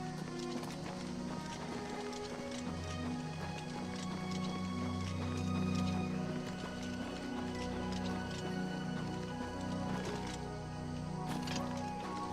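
Horse hooves clip-clop steadily in the Oblivion video game, a continuous trotting rhythm running through the whole stretch at moderate loudness, layered over a low droning game soundscape.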